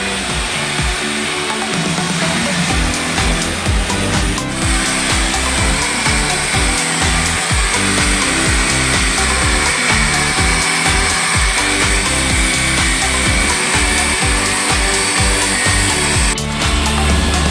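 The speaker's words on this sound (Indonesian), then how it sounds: "ini kita lakukan untuk meratakan permukaan dan juga menghilangkan baret-baret pada mobilnya" Polishing machine buffing the body of a Toyota Kijang during a detailing job, a steady loud whirring drone that runs continuously throughout with slight changes in pitch as the pad moves across the panels.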